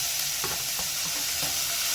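Callaloo greens tumbling into a pan already cooking onion, tomato, sweet pepper and scallion, giving a steady close sizzle with soft stirring scrapes throughout, no voices.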